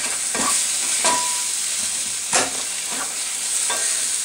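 Food cooking in a hot iron skillet, a steady sizzle with several sharp scraping strokes of a utensil against the pan, close and fairly loud, no talking.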